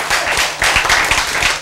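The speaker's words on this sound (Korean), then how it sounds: "박수" An indoor audience at a lecture claps together in a brief, dense burst of applause lasting under two seconds, close and fairly loud.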